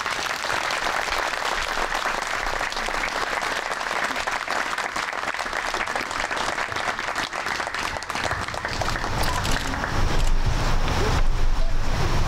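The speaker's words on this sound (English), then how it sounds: "Please give a great round of applause to Senator Bruce Starr." A big outdoor crowd at a North Reading visit of the Wall That Heals gives Senator Bruce Starr a sustained round of applause, with steady clapping under wind noise on the microphone that swells louder near the end.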